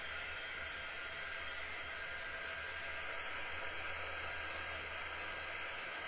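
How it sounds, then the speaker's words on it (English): A Chalk Couture quick dry heat tool blows in a steady, even hiss of warm air. It runs close and continuous with no pauses and no speech. "Now our quick dry tool does get really warm."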